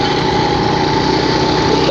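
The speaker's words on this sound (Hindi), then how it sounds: "ये देखिए जी, ट्रैक्टर कितना खूबसूरत लग रहा है यहाँ से" A tractor engine runs in a hilly rural area of Khyber Pakhtunkhwa, giving a loud, close, steady drone that holds unbroken from start to finish.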